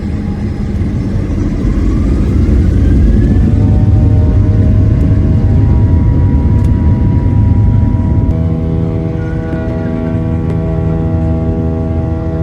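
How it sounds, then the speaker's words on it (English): An American Airlines Boeing 737 roars through its takeoff run, a loud, steady broadband engine rumble heard from inside the cabin, with rising whine tones as the thrust builds and holds. "now it was finally time for takeoff"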